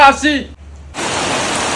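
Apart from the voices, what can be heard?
heavy rain starting outside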